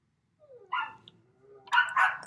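A dog barks close by in two short bursts, a single bark followed by a quick louder double bark, with no talking.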